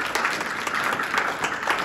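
Sustained applause from an audience at a fifth-grade school pinning ceremony, many hands clapping steadily throughout.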